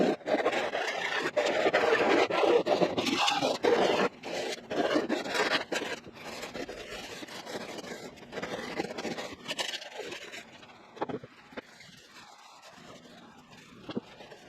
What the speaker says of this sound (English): So we need to get this whole backside of this bumper and this crack sanded up, smoothed up